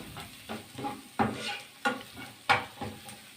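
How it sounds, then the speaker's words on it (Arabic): Onions turned with spices in a hot pan while preparing Alexandrian-style liver, a wooden-spoon stir scraping in repeated strokes over a steady close sizzle of frying, with no talking. "اقلب البصلايه بالبهارات."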